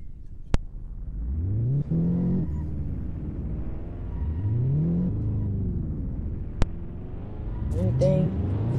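Car engine in a video game revs in repeated rising sweeps while drifting, with sharp clicks between, and a person talks over it throughout.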